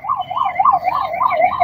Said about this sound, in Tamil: அடுத்த ஆம்புலன்ஸ் பார்